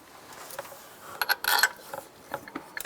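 Metallic clicks and short ratcheting taps as a bolt is threaded into the serpentine belt tensioner of a 2004-2012 Chevy Colorado, fairly faint with a brief louder burst of clatter mid-way.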